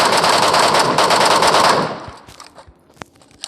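Rapid burst of automatic gunfire from a scoped weapon in a shooter video game, loud and sustained for about two seconds, then a single isolated shot in the quiet that follows.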